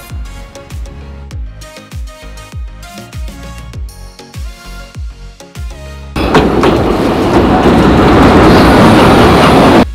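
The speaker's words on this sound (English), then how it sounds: "this is our train back to Bansko so the train was coming down the platform and Holly was" A train to Bansko, Bulgaria rolls along the rails with a steady clickety-clack of wheels over joints, then a loud rushing roar takes over, close and continuous.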